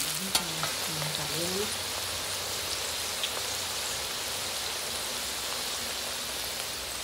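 Okra fries in a pan with a dense, even sizzle like light rain, close and steady throughout, with a brief faint voice near the start.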